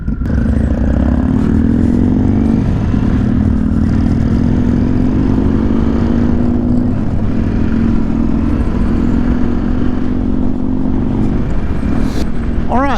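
Loud Harley-Davidson Sportster S motorcycle exhaust rumbles close by on a cold morning group ride, a sustained throaty drone with rising revs and a sharp rev burst at the end.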